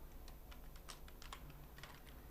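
Quiet computer keyboard typing as C# code is entered, a string of soft, irregular key clicks close by over a faint steady hum, with no talking.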